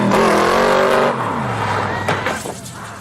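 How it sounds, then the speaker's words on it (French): A Shelby Cobra replica's engine revs hard and close, with a throaty roar that rises and falls as the revs shift, then drops toward a lower rumble. "La Shelby Cobra."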